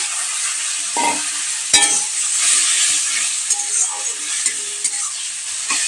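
Ginger with garlic, cumin and coriander powder sizzling and being stirred in a frying pan on a gas stove, a loud continuous close sizzle with scraping stirs and a few clinks.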